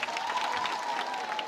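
An audience at a community donation event claps in a short, dense burst of applause that holds steady for its whole length.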